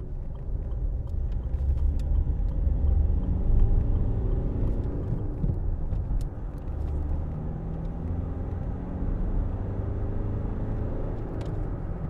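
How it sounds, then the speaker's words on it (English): A 2007 Land Rover Freelander 2 TD4 diesel with a six-speed gearbox pulls away, its low engine rumble and road noise steady and close from inside the cabin, no one speaking. "Great thing with diesels, lots of low end power. Just pull away."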